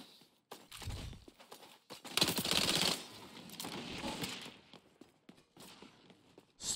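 Sniper and automatic gunfire in the shooter game XDefiant: a burst of rapid sharp shots in the middle, with scattered single cracks and clicks before and after, moderately loud against a quiet backdrop.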